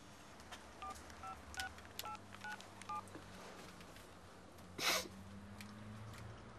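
Telephone being dialed in a television drama scene: a quick series of short two-tone keypad beeps at an even pace, quiet and close, followed by a brief sharp breath sound and low room noise.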